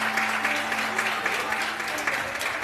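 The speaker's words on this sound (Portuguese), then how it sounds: "Aplauda o nome do Senhor" Congregation clapping during an evangelical church service, a dense continuous wash of hands with a faint tone beneath, mixed with voices throughout.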